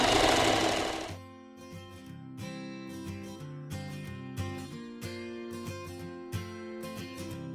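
A sewing machine stitches a skirt waistband in short runs, its rapid mechanical chatter starting and stopping repeatedly, close and alone after a brief louder burst at the start.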